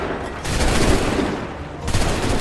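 A musket volley fires in Assassin's Creed III: two loud, sharp crashes of massed gunfire, each rolling into a dense, sustained roar of shots.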